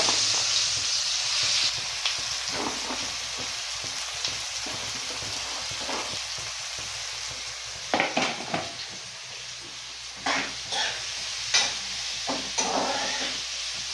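Onions sautéing in a pan, a steady broadband sizzle running throughout, with occasional sharper scrapes and clinks as a utensil stirs them; no voices.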